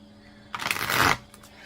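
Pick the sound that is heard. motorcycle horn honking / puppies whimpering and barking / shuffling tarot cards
shuffling tarot cards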